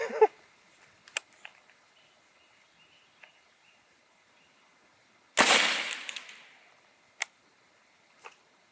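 A single suppressed 300 Blackout shot firing a 208 grain subsonic Hornady AMAX round, one sharp muffled crack with a brief decaying tail amid quiet outdoor surroundings and scattered small clicks.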